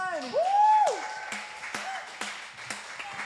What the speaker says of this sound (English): I love how you guys instinctively knew how to clap loud without me having to tell you